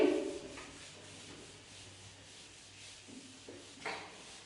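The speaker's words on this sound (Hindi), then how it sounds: "जस्ट 1 मिनट, मैं रब कर रही हूँ।" Rubbing out writing with an eraser, soft dry scrubbing strokes close by at low volume, with no talking.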